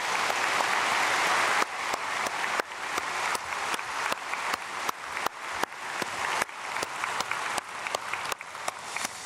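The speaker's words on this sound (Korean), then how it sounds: "우리 크게 박수로 축복하겠습니다." A church congregation claps together during a Korean early-morning prayer service, a dense, steady roar of many hands that carries through the whole stretch in a reverberant sanctuary, with no talking over it.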